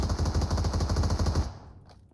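Rapid automatic gunfire from the video game PUBG Mobile rattles loud and steady, then cuts off abruptly and leaves a faint trailing sound.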